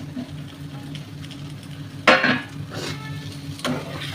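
Ginger and garlic fry in a small pan with a steady low sizzle, broken by a few sharp clinks and scrapes of stirring, close and alone without talk.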